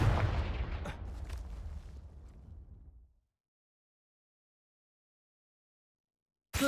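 Confringo fire spell blast in the video game Hogwarts Legacy, a loud fiery explosive burst that rumbles and decays over about three seconds into silence before another sharp hit begins at the very end.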